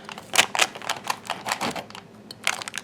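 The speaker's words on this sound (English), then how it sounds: "it has cooled down and everything is firmed up, so we're going to go ahead and cut this" A knife slicing through cooled, firmed-up triple berry blondies studded with blackberries and raspberries, giving a series of sharp, crisp cutting clicks and scrapes at an uneven pace, close and fairly loud, with no talking.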